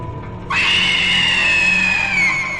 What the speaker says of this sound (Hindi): उस डायन ने एक जोरदार चीख लगाई